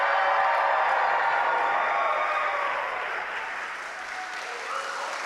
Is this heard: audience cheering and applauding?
yes